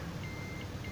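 A multimeter set to its combined continuity and diode mode gives off a faint, steady high beep tone that holds for the whole short moment over a quiet background hiss.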